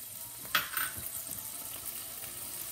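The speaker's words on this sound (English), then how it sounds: "I want to saute the caper together. Yes, in oil" Capers sauté in hot oil in a pan, giving a close, continuous sizzle with a brief louder crackle and stirring near the start.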